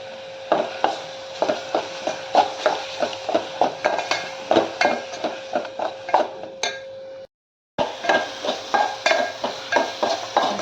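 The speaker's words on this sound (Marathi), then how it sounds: "त्यात आपण वाटण टाकायचं. कांदा खोबऱ्याचं वाटण टाकतो." Ground onion and coconut paste is stirred in a frying pan for Malwani rajma curry, a close, regular scraping and tapping of a spoon against the pan with a faint sizzle and a brief cut near the end.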